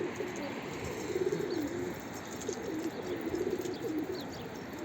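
Pigeons coo from a rooftop, low repeated throaty calls rising and falling in short phrases over steady outdoor background noise, with a few faint higher bird chirps.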